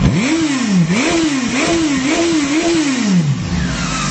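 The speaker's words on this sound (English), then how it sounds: "This is the exhaust note." A Honda CB900F motorcycle engine revs up and down repeatedly, a throaty exhaust note rising and falling in quick blips, close and loud.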